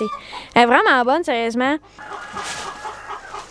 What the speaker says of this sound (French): Ça c'est une Plymouth Rock barré. C'est une poule